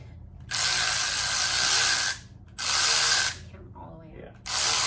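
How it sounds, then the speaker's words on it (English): Ratchet loosening bell housing bolts on an LSA-swapped Suburban, three loud close bursts of rapid clicking separated by short pauses. "You have to break them loose like a ratchet first."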